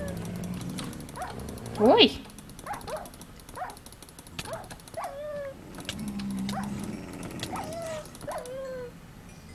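Yips and whimpers from a plump dog in a hellish desert video game level, several short high calls spread across the clip with a brief exclamation over them.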